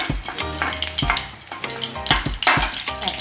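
Cardamom pods fried in a pan are stirred with a utensil, giving repeated scraping strokes over a sizzling crackle, close and fairly loud, no voices.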